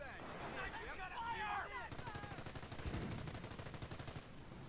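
Company of Heroes battle gunfire, with a voice talking at first and then a rapid rattling burst of shots lasting about two seconds over a low rumble.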